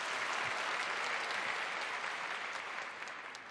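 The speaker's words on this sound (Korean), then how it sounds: "우리 영광과 감사의 박수 하나님께 올려드리겠습니다" A church congregation claps in praise after a choir's song, a full, steady round of applause that fades slightly toward the end.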